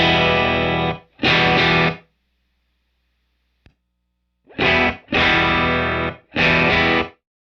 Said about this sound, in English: The brightness control is basically your dry signal with a tiny bit of hyped high end.